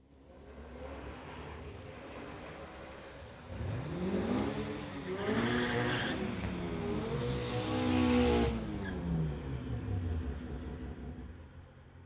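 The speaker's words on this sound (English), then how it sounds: "Luke Sever from Maple Ridge, 2018 Golf, going against Rob Sylvester from Langley in his 2015 BMW M235." A 2018 Volkswagen Golf and a 2015 BMW M235 launch side by side at a street-legal drag strip, engines rising through several gears with audible shifts, a loud broad roar that swells and recedes.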